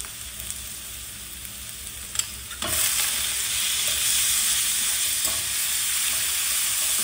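Onions frying in oil for mutton masala, a continuous close sizzle with occasional spatula scrapes, growing louder and denser partway through.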